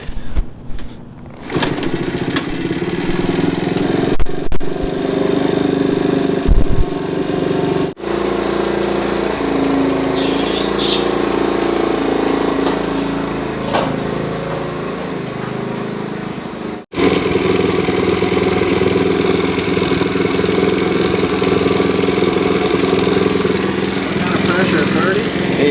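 A 1969 Honda CT70 motorcycle's small engine runs steadily and loudly close by, with a brief interruption partway through, while people talk over it.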